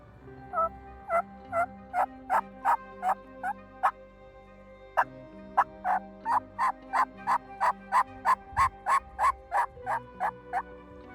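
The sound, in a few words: wild turkeys gobbling in a forest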